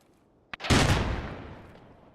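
A single gunshot cracks out in Escape from Tarkov, a sharp onset followed by a long booming tail that decays slowly, loud and close with no talk over it.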